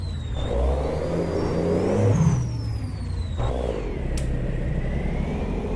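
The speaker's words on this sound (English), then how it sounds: "I'm going to turn the engine volume up and the exhaust down and see what happens" Engine of a custom Freightliner XL Classic sleeper truck in a driving video game, with engine volume raised over the exhaust: a steady mid-pitched drone that swells as it revs and winds through gear changes, close and continuous with no talking.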